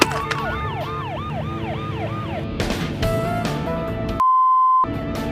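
A loud police siren wails in a rapid, repeating up-and-down pattern, then breaks into steady electronic tones and a sustained beep, close and dominant throughout.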